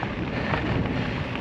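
Strong wind gusts buffet the microphone at a motocross track, a dense steady roar filling the short moment with no talk.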